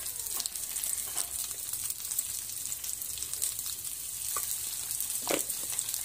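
Cooked potatoes sautéing in oil for a Gujarati-style aloo chutney, a steady close sizzle with occasional soft stirring scrapes and clicks, no talking.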